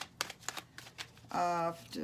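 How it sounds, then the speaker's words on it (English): Tarot cards are shuffled in quick riffling bursts at close range, followed by a brief stretch of talking. "we're going to go ahead and finish shuffling for Aries"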